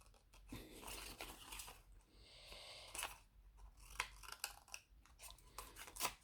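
Scissors cut paper for a pop-up flower card in a quiet room. Close, faint snips and crisp crunches come in irregular bursts, with no voice.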